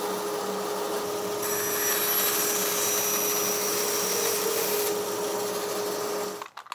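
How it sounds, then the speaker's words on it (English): A bandsaw runs with a steady loud whine as it cuts through plastic toy parts, the pitch rising and thickening while the blade bites in, then winding down with a few clunks at the end. "I'm gonna hack this off and hack this thing off over the bandsaw."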